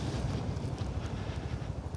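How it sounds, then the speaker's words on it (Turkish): Low, rumbling wind buffets the microphone steadily for a couple of seconds, with no voices. "Çok az bir sesi var. Rüzgar sesi."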